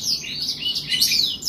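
A caged Indonesian gacoran songbird sings close by, a bright, rapid run of high chirps and twittering trills that carries on continuously and loudly without pause.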